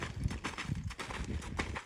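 A mare moves around a round pen during groundwork, her hooves striking the ground in a steady walking rhythm of soft, close thuds over faint background noise.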